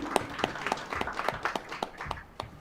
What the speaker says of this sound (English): Have a huge round of applause, everyone.